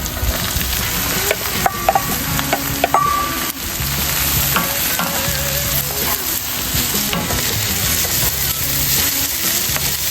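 Peppers frying in a pan of softened onions on a kamado BBQ for shakshuka, a loud continuous close sizzle with scattered pops and a few utensil clinks, steady for the whole stretch with no voices.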